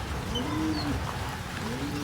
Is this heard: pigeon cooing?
yes